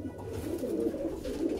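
A pigeon in a home loft gives soft, low coos, repeated in a rolling rhythm, close and clear with no talk over them.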